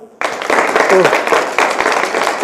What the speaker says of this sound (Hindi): इनके लिए भी भाई ताली बजाओ